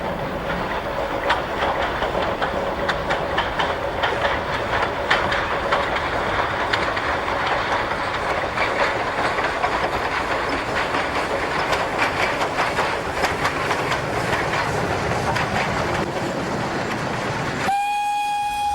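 A 1973 Portuguese railway train rumbles along with a steady rhythmic clatter of wheels on track, close and continuous, and a loud horn sounds near the end.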